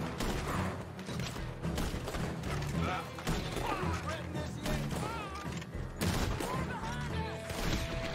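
Gunfire in the Red Dead Redemption 2 video game, repeated sharp shots and crashing impacts scattered over a loud, busy musical score.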